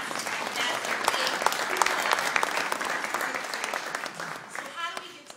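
Audience applause during a talk, dense sustained clapping from a large crowd, loud and close, holding steady before tapering slightly at the end.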